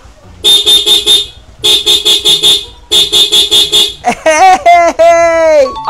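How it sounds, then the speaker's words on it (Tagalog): Horn on a restored motorcycle, honked in three quick rapid-fire bursts of several short electronic beeps each, loud and close, followed by someone talking. "tignan nyo yung busina ko."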